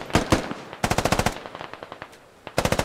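Automatic gunfire in the military shooter game Squad comes in several sharp, rapid bursts of loud shots, separated by short pauses and a quieter spell in the middle.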